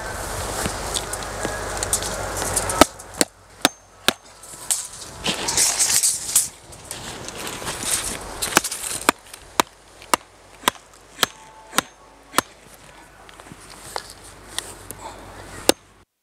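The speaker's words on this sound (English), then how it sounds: "So, a big hammer, stone hammer." A big stone hammer strikes during construction setting out, giving about a dozen sharp, evenly spaced knocks over sixteen seconds against a background of outdoor rustling.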